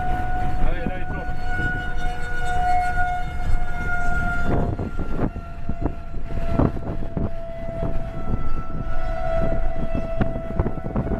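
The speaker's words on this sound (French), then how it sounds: "Les sirènes hurlent sa présence" A steady wailing tornado warning siren with sustained tones runs throughout amid street noise in Tornado Alley, with occasional voices and thumps in the background.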